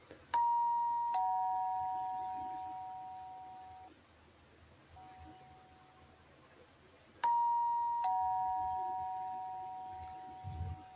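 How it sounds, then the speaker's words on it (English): A household doorbell chime sounds a two-note ding-dong twice, several seconds apart, each tone ringing clearly and fading slowly in a quiet room. "I have a nice doorbell. It has a nice chime."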